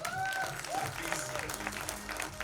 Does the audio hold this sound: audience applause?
yes